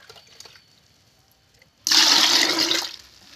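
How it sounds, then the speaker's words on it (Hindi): Water gushes loudly into a tobacco solution being made up to two litres for a garden pesticide, a sudden close pour lasting about a second after a quiet start. "अब मैं इसे पानी मिला देती हूँ"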